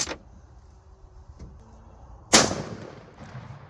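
A sharp, loud rifle shot cracks out and echoes away outdoors, preceded by a fainter distant shot, with no speech.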